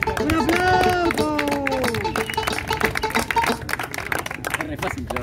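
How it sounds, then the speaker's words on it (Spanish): Crowd at a rap battle semifinal claps and cheers, loud and continuous, with voices shouting over the applause. "¡Un aplauso!"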